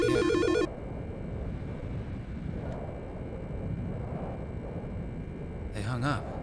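A telephone ringing in the video game Silent Hill: Shattered Memories, with two bursts of harsh electronic ring, one at the start and one near the end, separated by a low stormy rumble.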